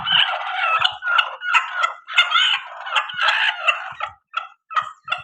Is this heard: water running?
no